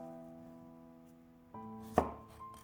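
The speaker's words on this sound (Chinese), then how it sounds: "然后将黄瓜的头尾去掉" A knife cuts through the end of a cucumber on a cutting board in a single sharp chop that rings briefly against the board, heard alone over a faint steady background hum.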